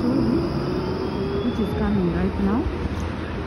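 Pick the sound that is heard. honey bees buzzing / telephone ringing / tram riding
tram riding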